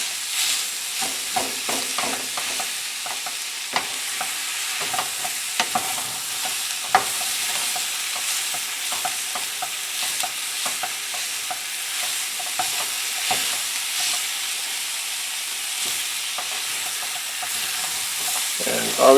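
Ground meat browns in a pan for shepherd's pie potato skins, with a bright steady sizzle and frequent clicking, scraping strokes of a utensil breaking it up and stirring.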